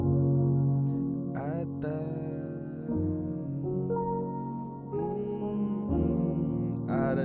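A music track plays continuously, with sustained melodic tones and shifting chords over a low bass layer, steady in loudness.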